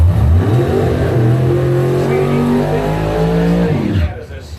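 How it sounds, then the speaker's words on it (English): A high-performance Corvette race car at a drag-racing qualifying event roars past, loud and close, its engine pitch climbing through gear changes before the sound cuts away abruptly near the end. "That is a super fast Corvette coming up right now in your highest performance lane."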